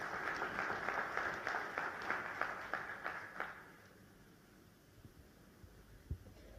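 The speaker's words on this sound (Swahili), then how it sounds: "Makofi kwa Mheshimiwa Ndumbaro." Applause for Minister Ndumbaro at a presidential hotel launch event in Arusha, rhythmic clapping from a crowd for about three seconds before fading into room hum.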